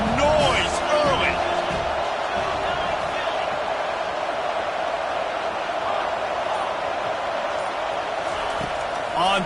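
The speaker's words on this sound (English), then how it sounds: "This crowd bringing the energy and noise early" Roaring American football stadium crowd during a game, a dense, steady wall of cheering that holds at high level throughout with brief louder swells near the start.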